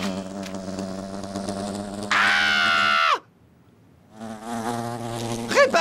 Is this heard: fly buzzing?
yes